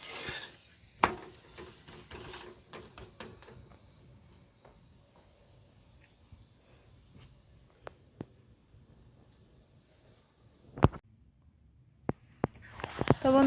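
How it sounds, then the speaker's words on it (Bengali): A carrot paratha fries in a little oil with a soft, steady hiss, broken by occasional sharp clacks of a utensil against the pan. "তবে তেল দিয়ে দেবো, অল্প অল্প তেল দিয়ে ভাজবো আমি।"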